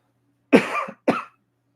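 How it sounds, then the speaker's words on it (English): Two short coughs, close and clear in a quiet room, the first slightly longer than the second. "almost like I have to cough"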